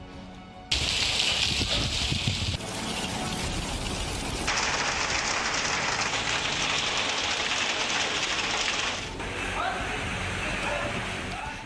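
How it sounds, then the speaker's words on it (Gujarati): Heavy unseasonal rain with hail pours down in Banaskantha, Gujarat, a dense, loud, steady hiss that shifts in texture across several abrupt cuts, with a voice speaking over it. "છેલ્લા બે દિવસથી વરસી રહેલો વરસાદ ચોમાસાની જેમ વરસી રહ્યો છે"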